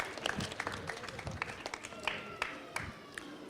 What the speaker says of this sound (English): Give yourself a round of applause for being so obedient.